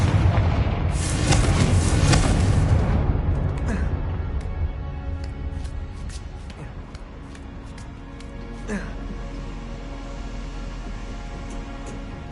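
The Confringo blasting spell in a Harry Potter video game bursts as a loud, roaring explosion at the start, then fades into a long rumbling tail with faint crackles.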